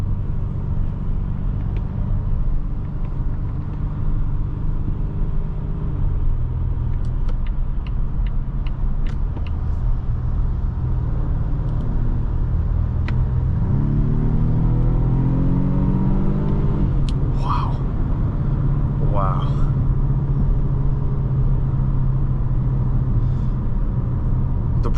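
A 2024 Volvo S60 T8 Recharge Ultimate accelerates hard from inside the cabin: a steady low drone swells into a rising engine surge midway, with road rumble throughout and no talking.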